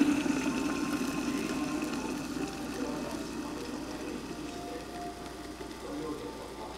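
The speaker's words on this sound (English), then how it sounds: "Pour in water." Boiling water poured from a kettle over strawberry rooibos tea through a paper filter makes a steady, close splashing rush that slowly thins toward the end.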